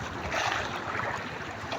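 Rough sea and strong wind buffet a small fishing boat near a mother boat, a steady loud wash of waves and wind noise hitting the microphone throughout, with no voices.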